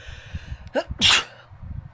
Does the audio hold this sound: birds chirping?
no